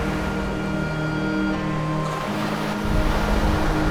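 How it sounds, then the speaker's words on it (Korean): Seawater surging through a breached sandbar into Songjiho, a coastal lagoon on Korea's east coast, makes a loud, steady rushing roar, with a heavier churning surge in the final second and a constant wind-like hiss throughout. "켜켜이 쌓인 모래를 무너뜨리며 맹렬한 기세로 호수로 들어오는 바닷물과 바다로 빠지는 호수물"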